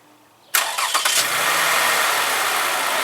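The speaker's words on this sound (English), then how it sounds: "So I'm just kind of going to start the car," A car's engine cranks briefly and fires up after being boosted by a NOCO GB40 lithium jump starter, then settles into a steady, close, broadband idle with no talking.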